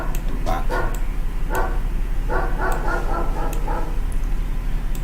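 A dog barks repeatedly inside a house, sharp yips and bow-wows coming in irregular bursts at close range over a steady low hum, with no talking.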